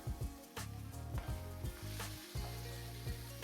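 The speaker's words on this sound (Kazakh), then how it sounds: "Қатты отта тауығымыз қызарғанша қуырып аламыз." Chicken pieces frying in hot oil over high heat, a fairly faint sizzle with a quick series of rhythmic scraping stirs against the pan, no voices.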